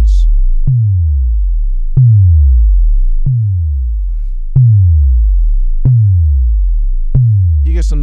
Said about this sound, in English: you get some nice distortion